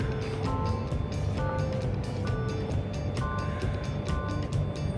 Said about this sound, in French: Ah la moto.